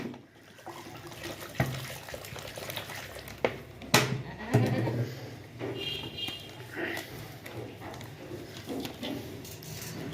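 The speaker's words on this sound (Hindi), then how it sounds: "पा दो, सारा पानी पा दो।" About one and a half litres of water is poured into feed for goats, a close, gurgling trickle with splashes and a few clinks from the container, fairly quiet overall.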